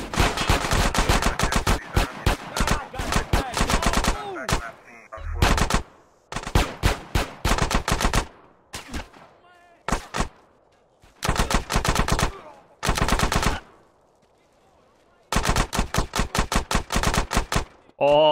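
Gunfire in GTA San Andreas Definitive Edition: repeated loud bursts of automatic shots separated by short gaps of near silence, with someone speaking between volleys.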